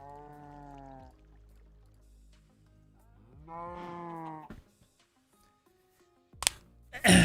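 Two drawn-out cow moos from the Minecraft video game, each about a second long and separated by a short pause, followed by a few sharp game noises near the end, with no talking.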